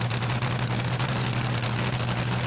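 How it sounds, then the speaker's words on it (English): Supercharged drag racing engine with a blower, throttle being whacked: a loud, steady, harsh roar with a deep low drone, close and dominating, with no talk over it. "he's serious about whacking that throttle"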